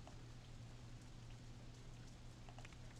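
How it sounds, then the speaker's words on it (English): Rain falling outside, heard as a very faint, even patter spread across the whole stretch, with a steady low hum underneath and no talking. "at least I have the pitter-patter of the rain while it's still going"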